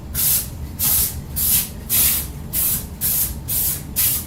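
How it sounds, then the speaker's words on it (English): Olive oil cooking spray mists onto a brownie pan in eight quick, even hissing bursts about half a second apart, loud and close, with no talking. "now we do it another spray along the edges"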